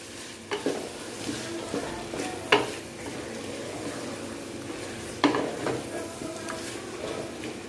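A spoon stirs tomatoes into vegetable pulao masala in a pan, giving a steady soft sizzle broken by a few sharp scrapes and clinks against the metal, close and with no talking.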